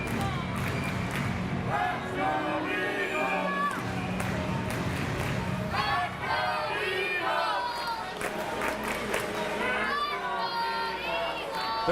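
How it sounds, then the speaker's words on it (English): Lively crowd noise in an ice hockey arena during a junior league final, a continuous roar of cheering and shouting fans heard under close commentary. "The crowd is a lively one tonight here at South Surrey Arena."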